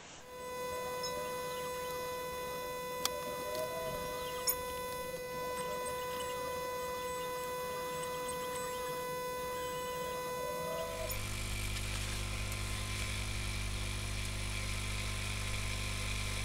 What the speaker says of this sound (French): Alors on passe à la découpe laser, je fais mes joints vite fait et je reviens tout de suite.